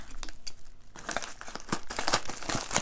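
Plastic wrapping on a small package of silver bullion being cut and pulled open up close, a run of crinkling, crackling rustles that grows busier toward the end.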